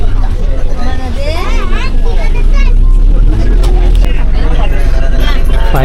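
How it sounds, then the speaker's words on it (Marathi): A bus pulls out with a crowded load of passengers on an election-day trip in Konkan, its heavy engine rumbling loud and continuous beneath a constant babble of people talking. "बस निघाले तर आमचे."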